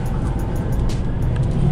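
Inside a nearly empty bus, a deep, steady engine rumble and road drone dominate, with faint rattles and hiss above it and no clear voices.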